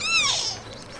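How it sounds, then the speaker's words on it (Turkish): A newborn kitten gives a single thin, high-pitched meow that rises and falls, close and fairly loud, trailing off into quiet background noise. "Miyavlamaya başladı. Sesi çıkıyor."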